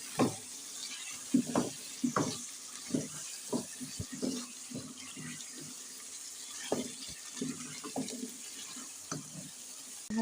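A spoon stirs ground spices into aloo chicken in a pan, giving quiet, irregular scrapes and clinks over a soft sizzle, with no talking.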